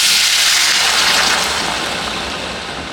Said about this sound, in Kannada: ಸ್ವಲ್ಪ ನೀರು ಹಾಕೋತಾ ಇದ್ದೀನಿ